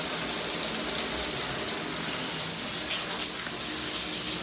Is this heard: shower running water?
yes